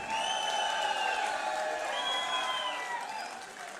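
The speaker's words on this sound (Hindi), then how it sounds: "तालियां रुकनी नहीं चाहिए" An audience applauds and cheers to welcome a poet onto the stage at an Urdu poetry recital, a fairly faint, steady wash of clapping with a few whoops over it, under overlapping voices and tapering slightly at the end.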